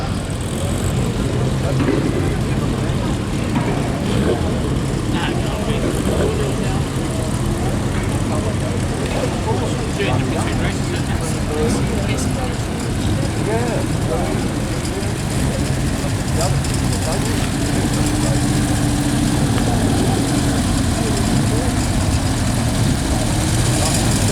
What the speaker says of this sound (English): The Heritage Formula 2 stock cars, Heat 1, Race 1.